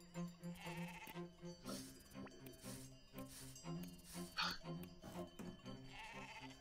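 Sheep in the video game Gomo bleat in a repeated, tonal, slightly wavering rhythm, with soft chiming game music playing underneath.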